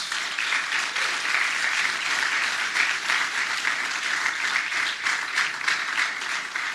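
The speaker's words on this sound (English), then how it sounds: "Give those guys a round of applause." A large crowd at a vice presidential campaign rally in Springfield gives sustained, dense applause, a steady roar of clapping with no break.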